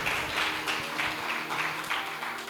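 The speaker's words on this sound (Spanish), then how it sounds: "Dale fuertes palmas de alabanza a Dios Todopoderoso." A church congregation claps in praise to God, with several rhythmic bursts of applause at a moderate distance and roughly steady pacing.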